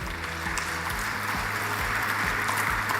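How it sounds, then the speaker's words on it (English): An audience applauds an award winner at an energy event in Tanzania, with continuous, even clapping heard over a steady low electrical hum. "Let's give him a round of applause."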